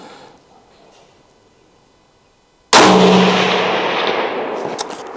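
A Ruger American Ranch rifle in .300 Blackout fires a 147 grain bullet outdoors: after quiet, a single sharp, loud report cracks close by and rolls away in a long decaying echo.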